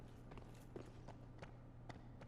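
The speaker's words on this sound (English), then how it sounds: "You hear those footsteps?" Faint, evenly spaced footsteps of a pursuer in Dark Souls 3, several soft thuds over a steady low background hum.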